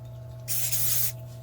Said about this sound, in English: I probably actually use way too much activator when I spray it